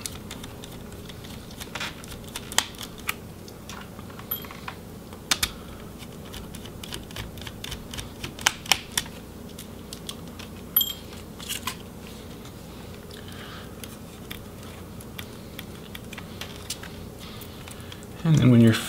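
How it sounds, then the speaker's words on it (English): Small screws are backed out of an MSI GS65 Stealth laptop motherboard, scattered faint clicks and ticks of a screwdriver on metal, with a louder rustle at the end and a quiet background hum. "once we remove these motherboard screws"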